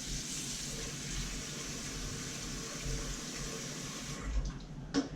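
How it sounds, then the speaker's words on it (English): Tap water runs steadily into a pot of rice in a kitchen sink, a close continuous splashing rush that cuts off near the end with a couple of small knocks. "fill it up with water"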